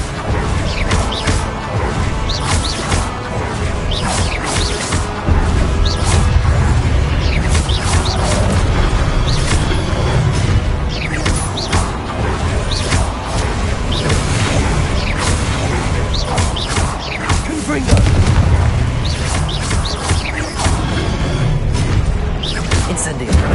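Incendio fire spell cast repeatedly in Hogwarts Legacy on PS5, bursts of crackling flame and impact whooshes recurring amid other spell sounds and combat clatter, loud and dense throughout, with speech mixed in.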